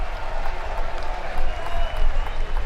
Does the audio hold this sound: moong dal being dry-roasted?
no